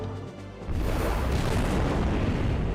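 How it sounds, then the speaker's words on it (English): Shoulder missiles launching from a mech in the PS2 game Robot Alchemic Drive: after a brief quieter lead-in, a loud, deep booming roar kicks in and rumbles steadily to the end. "so that's how you launch the shoulder missiles"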